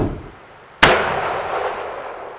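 Single sharp pistol gunshot from a Detonics handgun loaded with Canadian-made Clays powder and a 230 grain round nose bullet, a loud crack followed by a long fading outdoor echo.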